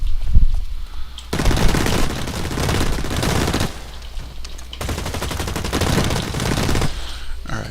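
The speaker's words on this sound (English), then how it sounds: "the only time that it's really alright to fire from the hip like that is basically when you are close range" Rapid hip-fire gunshots in the video game Blacklight Retribution come in two long, loud automatic bursts separated by a short pause, close and dense.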